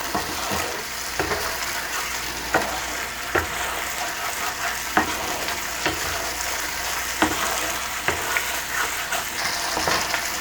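Poppy seed paste is stirred into spices frying in a pan, a continuous sizzle with regular scraping strokes of the spoon about once a second, close and steady, with no talking.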